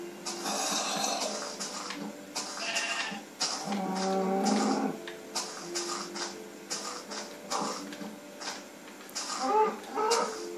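A cow on a tree farm moos several times, with drawn-out, fairly close calls broken by short pauses and some rustling in between.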